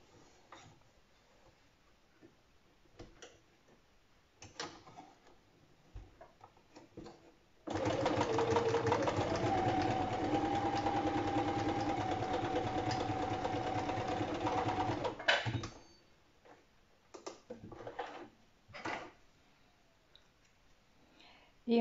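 A sewing machine runs a continuous stitch along the shoulder seam of a top for about eight seconds, a close steady mechanical whir with clicking between quieter handling noises before and after.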